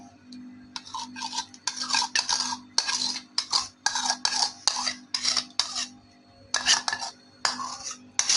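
A spoon mixing tamarind pulp into Kathiyawari chole in a pot, rhythmic bursts of scraping and clinking against the metal, close and brisk over a low steady hum, without speech.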